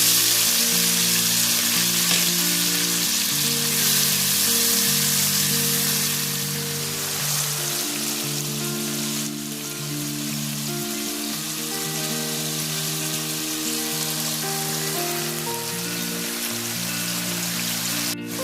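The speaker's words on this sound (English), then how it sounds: "And now we'll add the tomatoes and onions." Tomatoes and onions frying with toasted garlic for a coconut pumpkin and shrimp dish: a loud, steady sizzle that continues throughout, with background music playing underneath.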